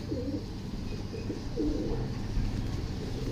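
A breeder's pigeon coos in low, throaty phrases, with two distinct rounds of cooing close by over a steady background hum, and no talking.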